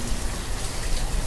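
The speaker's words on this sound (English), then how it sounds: "And it starts to rain." Steady, dense rain hisses evenly throughout in the village-building game Banished, loud and close with no voices.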